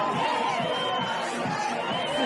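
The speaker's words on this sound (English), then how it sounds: "Literally thousands of people cheering in the streets of Machane Yehuda" A dense crowd of thousands fills the streets of Machane Yehuda market in Jerusalem, a steady wash of many voices and cheering that stays loud and even throughout, with no single voice standing out.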